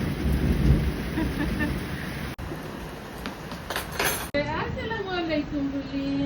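Steady rain pours during an outdoor family New Year barbecue, with a heavy rumbling wash of a thunderstorm filling the scene and voices rising over it toward the end.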